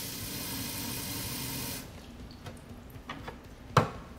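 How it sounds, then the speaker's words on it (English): Water pours into the reservoir of an Omni Ice Pulse compression cold therapy system, a steady close hiss that stops partway through and leaves a few small knocks and a sharp clack. "take the system and you're going to fill it with water to the fill line inside"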